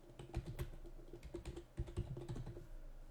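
Typing on a computer keyboard to enter a search term in forensic investigation software, a quick irregular run of close, crisp key clicks with no talking.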